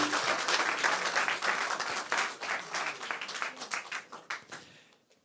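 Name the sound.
audience applause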